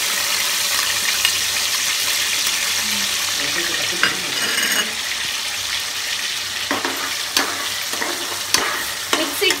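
Onion paste sizzles steadily in a pan over a low flame, a continuous frying hiss broken by a few sharp scrapes and clicks of a spoon stirring it, with no talking.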